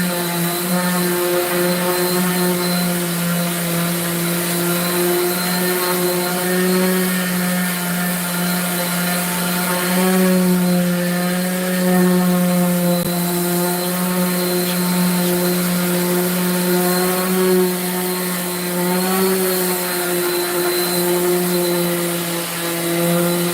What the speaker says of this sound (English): We'll get this one sanded up.